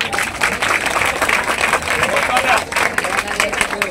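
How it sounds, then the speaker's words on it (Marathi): Crowd applause at a slum dwellers' hunger-strike protest in Asudgaon, Panvel: dense, steady clapping from many hands, with crowd babble mixed in throughout. "ताईंसाठी जरा जोरदार टाळ्या वाजवा."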